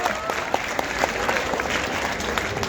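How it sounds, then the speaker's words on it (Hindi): Audience applause greets actors Mona Singh and Gagandev Riar on stage at a literary festival, a steady, dense wash of clapping from a large crowd lasting throughout. "तालियों के साथ उनका अभिनंदन कीजिए।"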